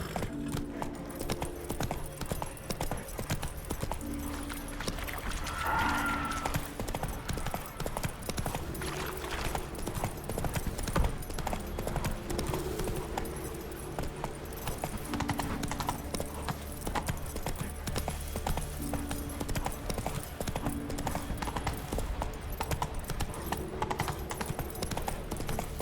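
Horse hooves clip-clop steadily at a brisk pace in The Witcher 3: Wild Hunt, with a game music score underneath and a brief whinny partway through.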